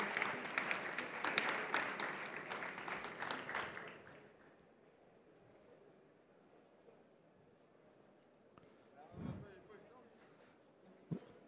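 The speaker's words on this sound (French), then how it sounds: "Et on va vous applaudir encore une fois." Audience applause at an awards ceremony, a steady round of clapping that fades out after a few seconds, followed by quiet room sound and a brief thump.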